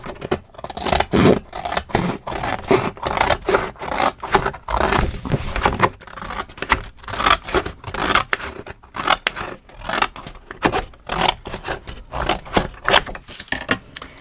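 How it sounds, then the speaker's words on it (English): Scissors cutting paper for a handmade mini album, a quick series of sharp, close snips and crisp paper rustles in an irregular rhythm, loud and clear with no talking. "I'm going to do it with my scissors because that won't fit in my cutter"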